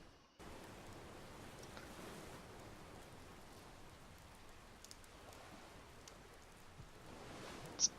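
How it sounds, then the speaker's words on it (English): Light drizzling rain from the weather effect in EverQuest II, a soft, steady, faint patter of rain noise with no voices. "You could change the weather where it's just drizzling."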